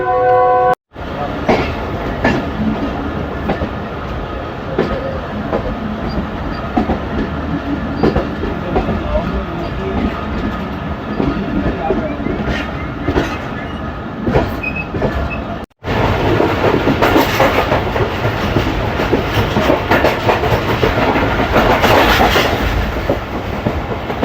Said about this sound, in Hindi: चकलाला रेलवे स्टेशन क्रॉस कर आई है।